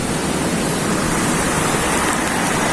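Waves churn on a swollen, rising river in Angat, Bulacan, a dense, continuous loud rush of water with no pauses.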